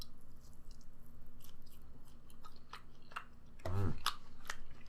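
Someone bites into delivery steak and chews it close to the mic, with quiet moist mastication sounds and one louder crunchy bite near the end, no talking.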